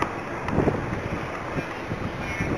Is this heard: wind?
yes